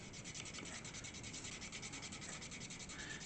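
Steady dry rubbing of a tool pressed over bare metal foil on a scale model being weathered with household items, a continuous close scratchy friction with a repeating back-and-forth rhythm and no voices.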